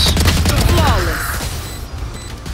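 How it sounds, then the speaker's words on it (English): Rapid gunfire from the Valorant video game, loud and dense bursts of shots crackling over a low rumble, mixed with in-game effects and brief voice sounds, the volume staying fairly steady throughout. "I actually really like the gun sounds"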